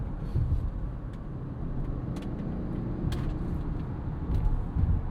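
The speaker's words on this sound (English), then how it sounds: "These tires do get loud. They do kind of complain when you're on the ragged edge." A 2026 Subaru Outback XT turbo boxer wagon drives along with a loud, continuous tire roar and low road rumble, heard steadily from inside the car.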